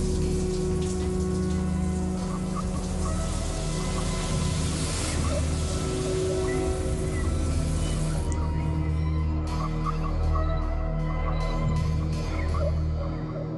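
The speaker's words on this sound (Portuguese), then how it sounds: "o chuveiro estava ligado e as torneiras abertas." Steady running water hisses and patters continuously, like a shower and taps left on, with a low hum underneath.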